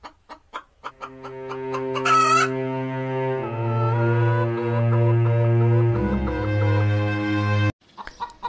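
Cartoon hens and a rooster in a village yard at night cluck in quick bursts, then break into a long, loud, close crowing cackle that stops abruptly.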